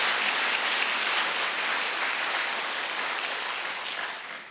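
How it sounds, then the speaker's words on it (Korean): A church congregation applauds a guest pastor at a Sunday service, giving a steady, dense round of clapping with no voices over it. The sound holds at a moderate level and fades slightly at the very end. "여러분 따뜻한 박수 감사합니다."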